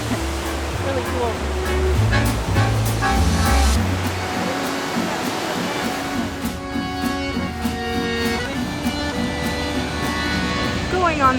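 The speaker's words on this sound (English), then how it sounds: "Waterfall." Steady rushing water roars continuously from a nearby waterfall in Quebec City, with music playing over it and a voice briefly audible.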